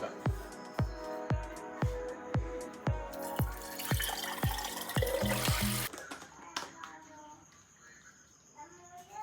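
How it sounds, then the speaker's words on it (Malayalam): Water hisses briefly into a plastic cooking oil sprayer bottle after a run of steady, evenly spaced clicks, with crickets chirping faintly in the background afterward. "ഫസ്റ്റ് നമുക്ക് വെള്ളം നിറച്ചിട്ട് ടെസ്റ്റ് ചെയ്ത് നോക്കാം."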